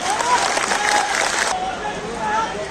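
A rally crowd claps at an outdoor political gathering, and the applause runs as a dense, steady wash for the whole span. Crowd murmur mixes in beneath the clapping.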